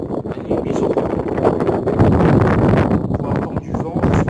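Wind blows through an abandoned building, producing a rough, fluttering rush with irregular gusts and rattling, loud and close throughout, with faint background noise and no clear talking.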